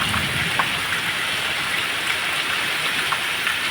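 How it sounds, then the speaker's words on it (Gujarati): Heavy rain pours down steadily in the Gir area of Gujarat, a dense, constant hiss of drops drumming on surfaces with no voices. "કેવો વરસાદ છે"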